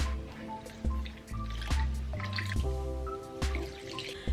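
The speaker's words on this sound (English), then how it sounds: "Soak the mushrooms in half cup of water." Water is poured and dripped over dried shiitake mushrooms in a bowl for soaking: close, uneven splashes and drips with small liquid plops, no voices.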